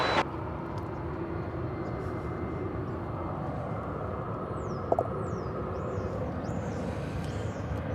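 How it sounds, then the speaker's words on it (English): An American Airlines Airbus A319 taking off at DFW Airport gives a steady, broad jet roar that holds at an even level throughout, with bird chirps above it and one brief sharp click midway. "All right, we have taking off here. American Flight 868 to Austin. And Airbus A319."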